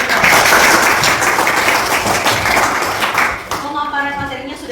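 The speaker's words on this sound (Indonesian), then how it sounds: "berikan aplaus dulu" A school audience at a focus group discussion on HIV/AIDS claps in a loud, steady burst of applause for several seconds, which then fades as a voice starts talking.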